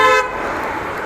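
A single loud car horn blast, short and close, fading into road and engine noise.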